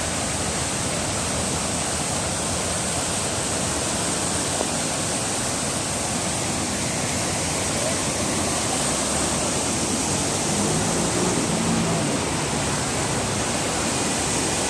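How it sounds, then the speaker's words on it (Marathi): Heavy rainwater rushes down from the Kharghar hills through a drain in a loud, continuous roar, steady throughout with no pauses. "मुसळधार पाऊस सुरू असताना खारघरच्या डोंगरावरून या नाल्यातून वाहणारे पाणी प्रचंड आहे"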